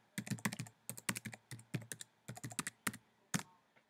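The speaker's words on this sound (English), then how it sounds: "Enter our password." Keys clack on a computer keyboard as a password is typed into a terminal, crisp close taps in quick uneven bursts with short pauses, ending on a single firmer press.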